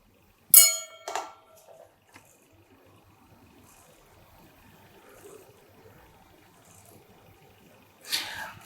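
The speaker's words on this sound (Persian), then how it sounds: "اگر قاشق ها رو با هم تصادم بدیم،" Metal spoons clang together with a ringing strike and a quick second hit, then quiet, and another clang near the end.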